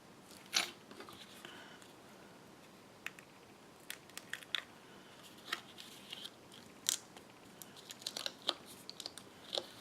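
Scissors snip through burlap trim in a series of crisp, close, fairly quiet cuts, irregularly spaced with small crinkling sounds of the fabric between them.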